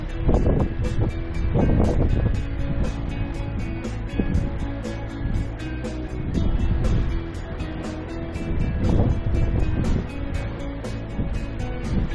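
Steady broadband rush of wind and water around a moving boat, with engine-like rumble and spray noise throughout, loud and continuous.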